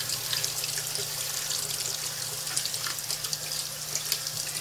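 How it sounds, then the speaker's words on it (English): Tap water running over black beans in a kitchen sink, a steady hissing stream with faint splashing, heard alone at a moderate, even level. "And I just run the water over them until it turns clear."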